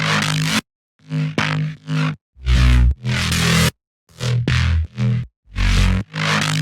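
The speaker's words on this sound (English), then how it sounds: "the crunch sounds like this" A crunchy, resampled Serum bass is chopped in Ableton Simpler and plays without a sub layer. It comes as a run of short, punchy, distorted hits separated by brief silences, loud and dry on its own.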